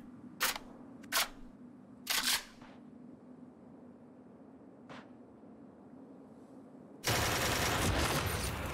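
In the shooter game Ring of Elysium, a few sharp, separate gunshots ring out over quiet background hum, then a loud, continuous burst of fire takes over at the end.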